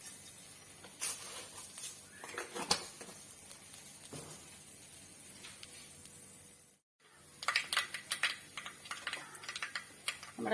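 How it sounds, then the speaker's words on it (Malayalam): Mustard seeds popping in hot coconut oil in a pan, a dense run of sharp, irregular crackles and snaps with a brief silent gap midway before the popping resumes. "നമ്മുടെ കടുക് പൊട്ടി."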